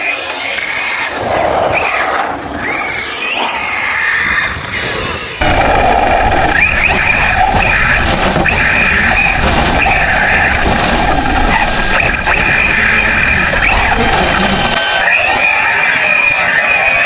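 An ARRMA Mojave 6S RC car is heard from an onboard cockpit camera as it drives over stones, with a loud, close, continuous rumbling roar and gritty rattling that swells and stays intense.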